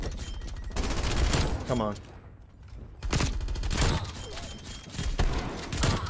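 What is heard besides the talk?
PPSh-41 gunfire in Nuketown video game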